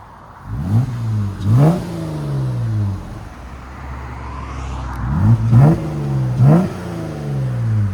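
A 2014 Jeep Wrangler 3.6L V6 with a Borla ProXS exhaust revs in four sharp, close throttle blips, two early and two late, each rising and falling over a steady idle rumble.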